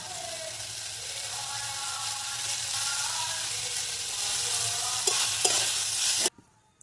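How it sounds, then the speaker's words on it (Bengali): Dry vegetable curry sizzles and is stirred in a pan, with constant frying hiss and a few sharp spatula scrapes near the end before it cuts off abruptly. No talk. "আমার তরকারিটা পুরো শুকনো শুকনো করে নিয়েছি একদম"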